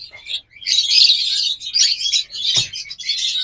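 A pair of yellow Fischer's lovebirds with red eyes chirps almost nonstop in bright, high, rapid bursts, close and fairly loud, with a brief soft thump partway through and no talking.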